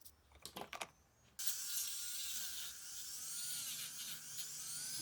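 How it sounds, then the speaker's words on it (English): A small rotary tool fitted with a wire wheel cleans and polishes the metal base of a Hot Wheels '69 Dodge Charger toy car. A few brief clicks come first, then a continuous high buzzing whir, fairly quiet and close. "I use my rotary tool with some wire wheel to clean the base and give it a little polishing."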